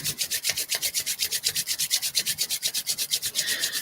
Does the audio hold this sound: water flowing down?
no